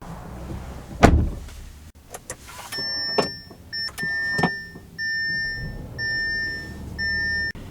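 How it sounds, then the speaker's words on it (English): Power-folding side mirrors on a 2024 Audi A3 fold in after a sharp click, their small motors whirring in several short, even bursts, close and fairly quiet, with a thin tonal whine over each run. "The mirrors do power fold in"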